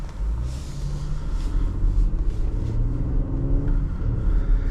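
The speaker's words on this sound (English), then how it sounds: "Let's go for a drive." A 2023 Genesis GV80 Prestige SUV with the 3.5-litre V6 pulls away and drives off, its low engine drone and road rumble steady and close from inside the cabin, with no talking.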